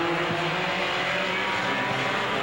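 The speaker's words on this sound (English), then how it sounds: "The 77H of Dan Rozek on the throttle hard down the back straightaway." A race car at Veterans Raceway Park under hard throttle down the back straightaway, a steady, loud, broadband engine roar filling the whole clip with a droning low tone beneath.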